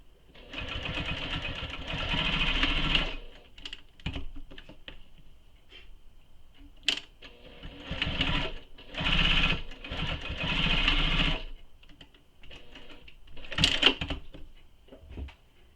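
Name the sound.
sewing machine top stitching long edges of a tote bag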